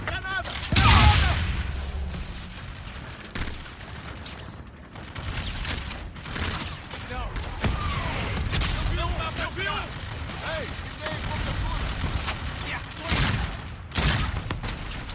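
Call of Duty battle with sustained gunfire, a thrown grenade and mechanical weapon handling, heavy bursts and booms through the stretch while radio chatter and shouted commands in Portuguese run over it.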